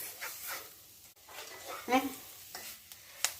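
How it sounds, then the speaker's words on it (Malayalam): Curry masala for beef curry stirred in a pan over low heat, with a soft sizzle, a few spoon scrapes, and a brief sharp sound over a quiet background. "അതിൻ്റെ പച്ചമണം മാറുന്നവരെ നന്നായിട്ട് ഇളക്കുക. സിമ്മിലിട്ട് വേണം ആ സമയത്ത് ഇളക്കേണ്ടുന്നത്"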